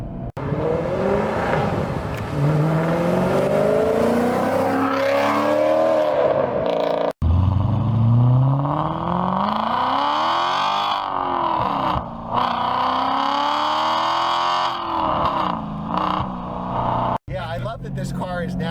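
Naturally aspirated Audi RS4 wagon engine with a non-resonated exhaust revs hard through rising and falling sweeps, loud and close, with brief gaps between pulls as it accelerates.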